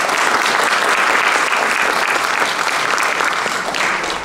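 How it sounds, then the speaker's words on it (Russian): An audience at a comedy concert evening bursts into steady, loud applause, dense continuous clapping from a large crowd that holds throughout and eases slightly at the end. "Похлопаем!"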